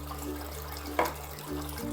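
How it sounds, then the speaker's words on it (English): Water runs from a tap into a small container, a steady close splashing stream with a brief gurgle midway. "All I do is fill a container up with a little bit of water,"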